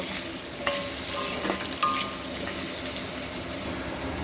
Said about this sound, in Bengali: এর মধ্যে খুব সামান্য একটুখানি হলুদ গুঁড়ো দিয়ে দিলাম দিয়ে আলুগুলোকে প্রথমে একটু ভেজে নেব